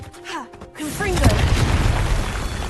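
Confringo explosive spell blast from the Hogwarts Legacy game, a loud booming burst that opens into a sustained rumbling roar lasting a couple of seconds, with a voice speaking briefly beforehand.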